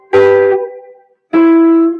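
Chords and a melody played together on a single instrument during a live stream, heard as two sustained, ringing struck notes with rich overtones, each fading out, separated by a brief gap of silence.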